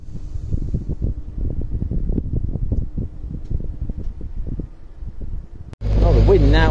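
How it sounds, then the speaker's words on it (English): Strong wind gusts outdoors beside a narrowboat on the River Witham near Lincoln, rumbling and buffeting close to the microphone in uneven surges, ending in a sudden loud blast of roar. "wind now has really picked up"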